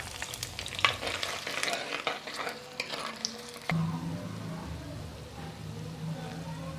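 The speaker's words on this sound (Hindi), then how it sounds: "अब मैं प्याज ब्राउन करने लगी हूँ ऑयल में।" Chopped onions fry in hot oil in a pan, a steady close sizzle, with stirring scrapes and clatter over the first few seconds before the frying settles into a quieter hiss.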